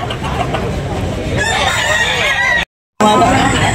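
Rooster crowing at a Cebu backyard poultry market, with several long crows laid over a steady noisy crowd bed and a brief gap of silence near the end.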